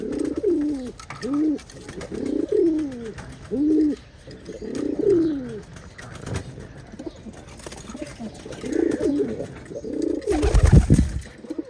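Repeated soft, throaty pigeon coos in a steady rhythm, fairly close, from pet pigeons with watery eyes, with a brief rustle and thump near the end.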